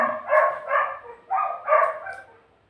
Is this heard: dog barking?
yes